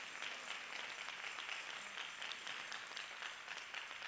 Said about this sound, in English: Let's give the families a round of applause.